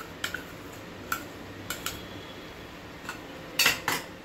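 A spoon clinks lightly against a metal pot while custard apple pulp is stirred into chilled basundi, making sparse, faint taps and a short double clink near the end.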